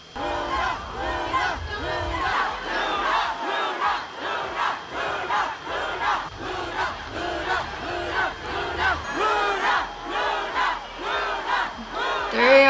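A large K-pop concert crowd at KCON chants a group's name in a steady rhythmic call, loud and sustained, with cheering mixed in throughout.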